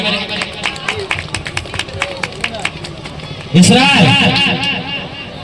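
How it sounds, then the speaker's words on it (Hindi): A crowd claps in a pandal at the Sant Ravidas Jayanti celebration in Saidabad. Scattered, rhythmic hand claps over background murmur for a few seconds, then a loud amplified voice cuts in. "ताली मारे।"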